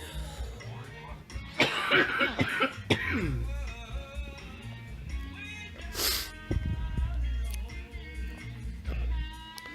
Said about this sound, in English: Thus the exorbitant coughing.